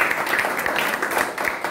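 An audience claps throughout for a performer at a music event in Varanasi. The applause is a dense, steady patter of many hands, fairly close and continuous.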